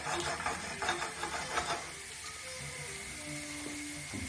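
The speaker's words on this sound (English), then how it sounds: "Just got to be frying nicely. You can hear it." A steady sizzle of parsley frying in a pan for penne arrabbiata, bright and hissing, with some clattering early on before it settles.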